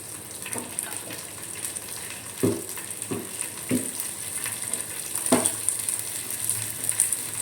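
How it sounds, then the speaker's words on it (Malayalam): Masala dosa batter hitting a hot pan, a steady bright sizzle with a few sharp spits and scraping stir sounds, fairly close and alone without talk. "അപ്പോൾ നമ്മുടെ ദോശയുടെ പാന് ചൂടായിട്ടുണ്ട് ഇനി നമ്മൾ ഒരു ദോശ ഇട്ടെടുക്കും"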